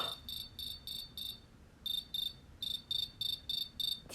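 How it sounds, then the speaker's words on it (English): A cricket chirps in repeated short, evenly spaced trilled bursts, a group of five, a pause, then a longer run of bursts, moderately near and clear against a quiet background with no talk. "the cricket rubbed his wings together"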